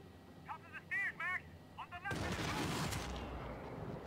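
Gunfire from the Max Payne 3 video game erupts after a few chirpy electronic tones, becoming a loud, continuous burst of rapid shots and explosions that fills the rest of the moment, with a voice in the background.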